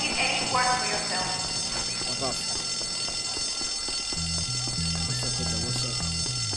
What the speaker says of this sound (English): We know who pulled the fire alarm.